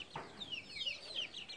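Chickens cluck close by in a rapid series of sharp, descending calls over about a second and a half, moderately quiet with faint background noise.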